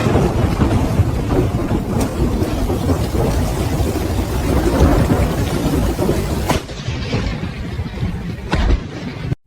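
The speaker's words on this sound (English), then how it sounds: "There was no delay between the flash and the thunder." Thunder from a lightning strike over a house, with heavy rain: a dense, loud rumbling roar of rain and wind noise, sharp cracks breaking through near the end before the sound cuts off abruptly.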